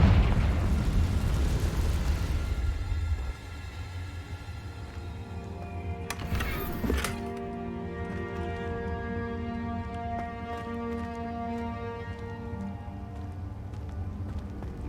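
Blasting-spell explosions from the Hogwarts Legacy video game: a loud rumbling burst fades into a sustained roar, with a sharp crackling flare midway over a steady game-music bed.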